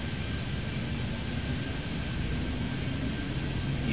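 Airliner taking off in the Airport Madness 3D game at Miami, runway 12: a steady, loud jet engine roar with a broad hiss and a faint whine, constant throughout, with no voices.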